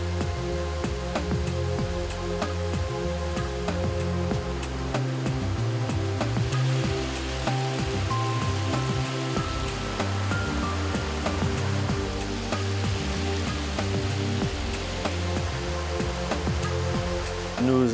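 Clarified water spills over the rim of a settling basin at the Basse-Wavre wastewater treatment plant, giving a loud, steady rushing roar like a small weir that continues unbroken with no voices.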